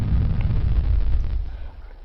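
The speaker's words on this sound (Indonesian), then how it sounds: "Fire Flames yang telah diaktifkan lalu meledakkan orang yang terkena api tersebut dan orang-orang yang berada di sekitarnya" A fire-flames skill detonating in a video game, a loud, dense low rumbling blast that holds for over a second, then thins and fades out.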